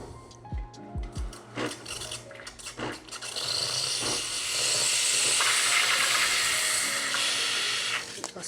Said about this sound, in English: Let's release some steam.